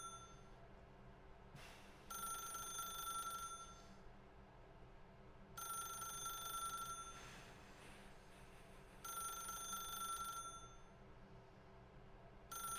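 Telephone ringing in The Stanley Parable video game, a repeating electronic ring sounding in three bursts of about a second and a half each, separated by pauses, moderately faint over a low background hum with no talking.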